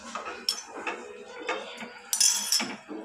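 Butter is stirred into melted caramel in a pan, a metal spoon scraping and clinking against the pan in uneven strokes, close and fairly loud.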